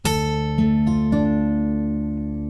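An acoustic guitar plucks a short fingerstyle phrase of the Harry Potter theme: four clean notes struck in sequence, each ringing and sustaining close up, with no talking.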